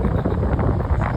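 Strong wind buffets the microphone at Madhavpur beach, loud low rumbling gusts filling the short moment without a break.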